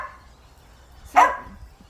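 A pet dog gives one short, sharp bark at the start of a road trip, close and fairly loud against a quiet background.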